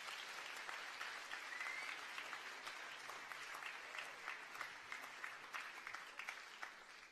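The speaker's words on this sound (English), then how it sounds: "So please give yourselves another round of applause for the standard." An audience at a school house music competition applauds, a faint, steady wash of many hands clapping that fades slightly toward the end.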